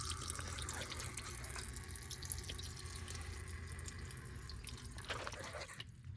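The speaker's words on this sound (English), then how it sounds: "So now while we're still waiting for the oil to drain, the filter is now pretty well empty." Engine oil draining from the filter of a 2009-2018 Dodge Ram 1500 with a 5.7L Hemi, a faint continuous trickle with soft dripping, close and quiet, no voices.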